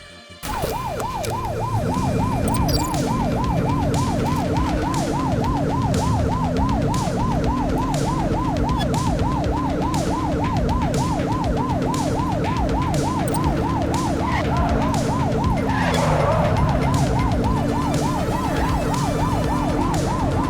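Police car sirens wailing loudly and continuously during a police pursuit in The Precinct video game, a rapid cycling yelp over a steady engine drone, with no talking.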